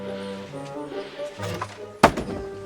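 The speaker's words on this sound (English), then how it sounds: "That was just a warning shot." An arrow in Kingdom Come: Deliverance 2 lands nearby as a warning shot, giving a single sharp, loud thunk with a short rattling tail. It comes near the end, after a stretch of low background game sound and music.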